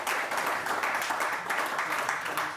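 An audience applauds the chairman at an arts academy opening, a dense steady patter of many clapping hands sustained throughout, moderately close.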